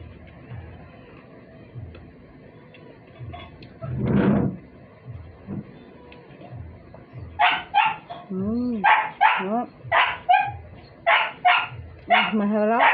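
A pet dog barks in a rapid run of sharp, loud yelps close by, following quieter kitchen sounds and a soft voice earlier on.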